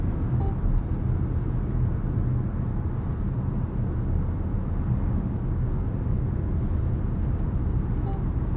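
A 2023 Mazda CX-50 cruises at highway speed while towing 3,500 lbs, giving a constant, dense road and engine rumble from inside the cabin, steady and unbroken with no talking.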